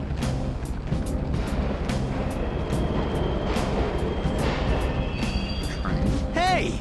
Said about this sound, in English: Train's totally running.